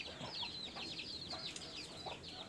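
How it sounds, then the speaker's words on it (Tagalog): Newly hatched chicks on a small poultry farm cheep in quick, high repeated peeps, soft and fairly close, several birds overlapping without pause. "Mga sisiw."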